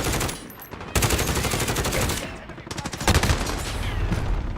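Rapid automatic gunfire in a shooting video game, two long loud bursts of fast repeated shots close up, separated by a brief lull.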